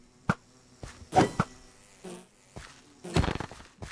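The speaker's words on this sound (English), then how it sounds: "Hello, bees." Bees in Minecraft give a soft buzzing hum in the background, broken by sharp clicks, taps and brief bursts of game noise.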